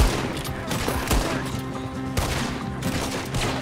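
Dense gunfire fills a shootout in Red Dead Redemption 2, with rapid overlapping shots and sharp cracks over a continuous loud din, and game music or ambience underneath.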